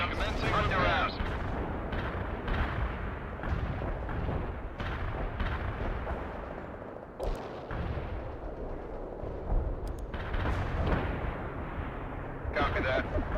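Artillery barrage in the World in Conflict video game, a dense run of heavy booming impacts and rumbling blasts rolling on and off over several seconds, loud and close, with game radio chatter mixed in.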